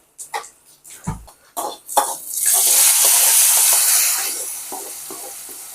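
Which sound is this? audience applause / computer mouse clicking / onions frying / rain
onions frying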